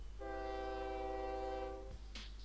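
A train horn in the railway simulation game OpenTTD, one sustained steady blast lasting under two seconds over a constant low rumble, ending in a short click.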